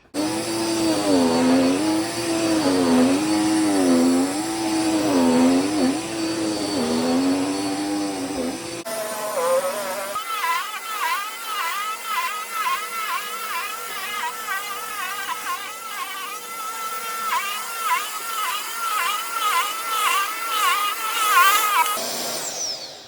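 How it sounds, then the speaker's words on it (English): A household vacuum cleaner runs continuously indoors, its motor whine rising and falling in pitch as it is pushed back and forth, with a brief shift in tone partway through and no talking. "I'm going to go ahead and then start the vacuuming."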